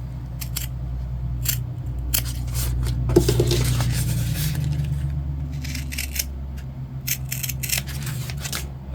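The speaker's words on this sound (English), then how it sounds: "Now we're going to take our scissors and we're going to cut into the corners." Scissors snipping into the corners of fabric while sewing a convertible bag, a series of sharp, close blade clicks and crisp cuts, some in quick bursts, with quieter handling rustle between them.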